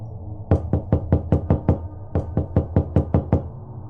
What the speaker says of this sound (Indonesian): suara ketukan kembali terdengar